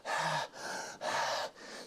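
A voice imitates a singer panting into a microphone, four heavy rhythmic breaths in and out, loud and close with no words.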